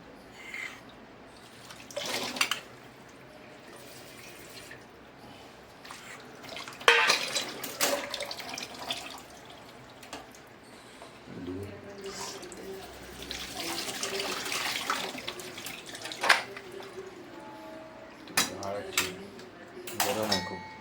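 Boiled young bamboo shoots being strained in a kitchen, water pouring and splashing into a sink with clanks of a metal pot and utensils, intermittent bursts of running water between quieter handling noises.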